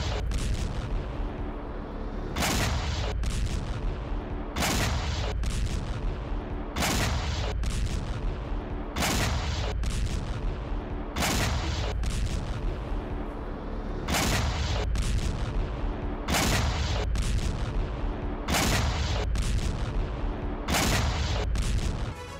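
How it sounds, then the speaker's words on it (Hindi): Artillery bombards Ukrainian positions, sending heavy booming blasts at a steady rhythm about every second or two, each loud, low impact ringing out over a constant rumbling background. "यूक्रेनी ठिकानों पर पूरी रात बमबारी की खबर सामने आ रही है।"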